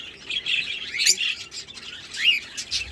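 Budgerigars chirp and twitter near a nest box in a breeder's aviary, with a run of quick, bright calls rising and falling close by and no voices.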